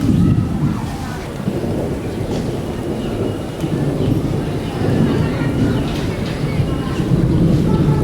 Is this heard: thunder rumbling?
yes